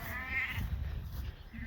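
Sheep from a shedding-breed ewe flock bleat during early weaning of the lambs on a farm: one drawn-out, wavering bleat close by, set against steady outdoor background noise.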